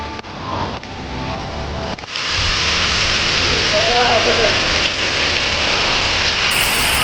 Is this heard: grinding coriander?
no